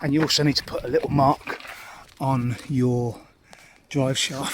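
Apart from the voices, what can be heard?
None of the usual background noises is heard.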